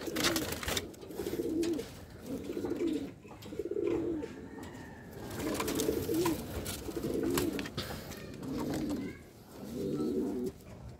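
Soft, low coos from a banded racing pigeon visiting a loft repeat in a steady rhythm of about eight phrases, close by, with faint background noise and no talking.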